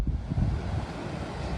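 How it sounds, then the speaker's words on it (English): Ocean waves wash onto the beach at Frisco on the Outer Banks, a steady, roaring surf with heavy wind buffeting the microphone. "And here's the beach."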